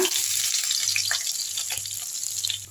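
Crushed garlic hits hot oil with mustard and fennel seeds and throws up a close, bright, constant sizzle with faint crackles, loud and unbroken throughout, with no voices.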